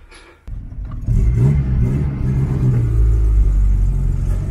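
A motorcycle with a repaired wheel hub and a loose throttle grip starts up and rides off, its engine rumbling loud and close and rising as it revs and pulls away.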